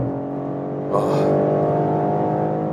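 A BMW M3 Touring with a 3-liter inline-six pulls hard on the Autobahn. The engine tone is heard from inside, rising as it accelerates with a brief surge of noise about a second in.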